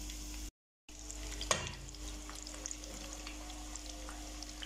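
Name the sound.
chicken drumsticks frying in a pan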